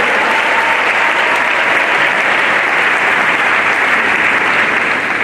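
A church congregation applauds at a memorial thanksgiving mass for Papa Okabe Saturnin, with dense, steady clapping that fills the whole stretch at full volume and no voices above it.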